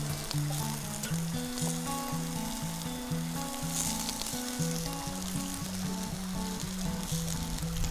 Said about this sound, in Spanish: Aceite. Y lo primero que vamos a echar es cebolla.